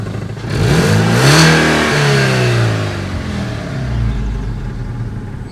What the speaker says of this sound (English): It's got an exhaust blow.